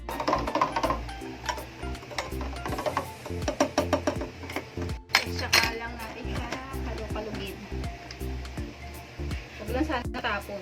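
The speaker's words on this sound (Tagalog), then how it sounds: "Wait lang, haluin ko lang siya na kutsara." A spoon stirring inside a tumbler while making milk tea, with repeated metallic clinks and scraping in quick bursts, close up, with someone talking intermittently over it.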